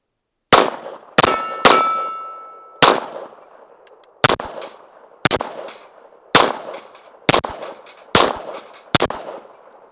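Pistol fire from an Archon Type B Gen 2 with 150 grain Federal Syntech rounds on an outdoor range, about ten loud, sharp, close shots in an uneven string, several followed by the ringing clang of steel plates being hit.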